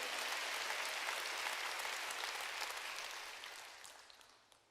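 A church congregation claps together during a sermon, a dense burst of hands that holds steady and then fades away toward the end.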